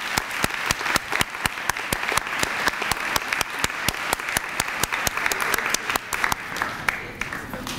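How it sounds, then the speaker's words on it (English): A crowd at a ribbon-cutting ceremony claps enthusiastically, a dense, steady burst of applause that continues for several seconds without letting up. "Let's give them another round of applause."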